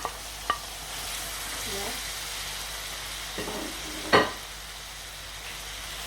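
Pepper and other ingredients fry in a pan while a fish dish is being cooked, giving a soft, continuous sizzle with a few sharp utensil clinks and scrapes. A voice speaks briefly.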